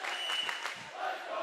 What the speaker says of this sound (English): this Milford crowd right back to life